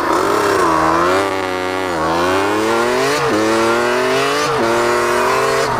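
A damaged motorcycle engine, blown and lacking power, drones loud and close with wavering revs that rise and dip unevenly, sounding rough and strained throughout.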